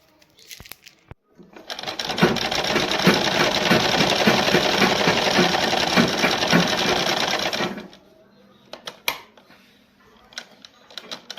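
A sewing machine stitches a suit, whirring in one continuous run of several seconds with a fast mechanical rattle, framed by scattered clicks and handling noises before and after.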